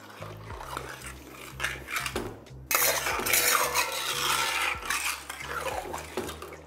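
Mutton being stirred with ginger garlic paste in a pot, a spoon scraping and rubbing against the metal in repeated strokes. Steady close kitchen scraping with a louder stretch midway.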